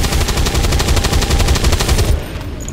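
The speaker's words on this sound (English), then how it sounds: "just start putting just every bullet in your magazine into this thing." Automatic gunfire from soldiers in the video game XCOM 2: War of the Chosen: loud, rapid continuous bursts of shots that hammer steadily for about two seconds, then cut off into quieter game ambience.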